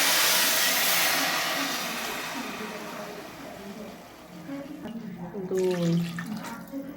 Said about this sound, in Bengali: এবার আমি জল দেব এই কাপের 4 কাপ